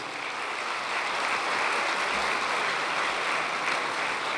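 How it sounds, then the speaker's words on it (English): Steady, dense applause from a large audience at an evening awards dinner honoring teachers and educators, a continuous wash of clapping that holds evenly throughout without voices. "let's give everybody a big round of applause for difference makers here tonight"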